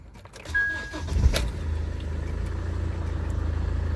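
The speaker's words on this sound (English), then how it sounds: "The engine is running." A car engine cranks briefly and catches, then settles into a steady low idle that continues to the end, quiet and close with no talking.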